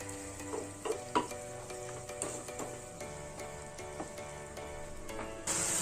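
Egg curry masala cooking in a pan over medium to low flame, a low steady sizzle with scattered spoon clinks and stirring scrapes, fairly quiet and close, and no speech.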